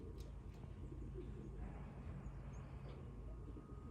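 Soft pigeon cooing and faint chirps drift in from a racing pigeon loft as young birds return from a race, quiet and low against steady background noise, with no talking.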